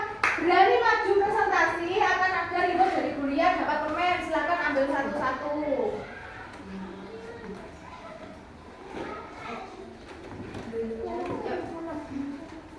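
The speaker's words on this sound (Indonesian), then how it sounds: "Tepuk tangan untuk kelompok kelinci" Children in a classroom clap for the rabbit group while young voices chant loudly over it, then the room settles into softer clapping and quiet chatter.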